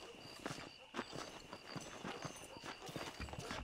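Horse hooves clip-clop in a steady walking rhythm in the video game Red Dead Redemption, close and fairly faint, with a voice speaking over them.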